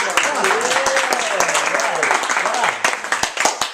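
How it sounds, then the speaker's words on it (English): A group claps together during a Passover gathering, dense hand claps filling the room while a voice talks over them throughout, the clapping thinning into scattered separate claps near the end. "Give yourselves a clap."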